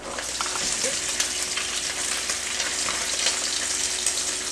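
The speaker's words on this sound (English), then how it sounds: "You want to fry your bacon till it's nice and crisp, but not burned." Bacon fries in a pan, a constant close hiss of sizzling fat with scattered pops and a faint steady hum underneath.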